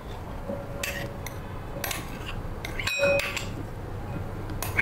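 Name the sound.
mixing sabudana vada ingredients in a bowl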